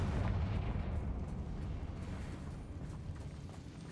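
A blasting spell goes off in Hogwarts Legacy, opening with a heavy booming burst that fades into a rumbling, crackling explosion tail.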